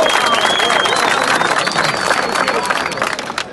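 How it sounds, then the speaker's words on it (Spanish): A crowd of prison inmates at La Victoria applauds, producing a loud, continuous burst of clapping with scattered cheers and babbling voices over a few seconds. "¡Aplausos!"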